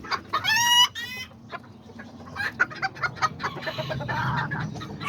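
Kikiriki and Azteca chickens and a rooster cluck and squawk close by, starting with a burst of loud calls and then scattered softer clucks over quiet farmyard background.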